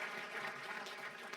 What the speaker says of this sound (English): Get an applause for that.